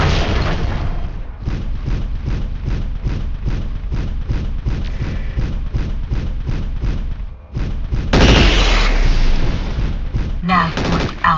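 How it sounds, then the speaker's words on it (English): Loud, rapid bursts of blasts and weapon fire from destroyed missile launchers in the Mechwarrior 4 video game, a dense rhythmic barrage with heavier explosive surges near the end. "We better stay clear of the blast or we may take some damage."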